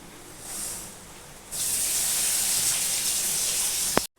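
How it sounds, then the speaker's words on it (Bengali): Running tap water pours over mung dal being rinsed: a faint trickle first, then a strong steady gush for a few seconds that cuts off abruptly with a brief clunk. "এবার যেটা করবো ডালটা আমি একটু ভালো করে ধুয়ে আনবো"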